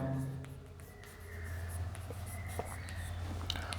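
A pen scratches quietly across paper as a bank entry is written by hand into a partner capital account ledger, faint strokes under a steady low hum.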